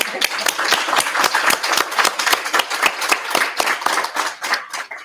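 Audience at a guest speaker's lecture claps in a close, steady run of distinct, evenly spaced hand claps that continue throughout.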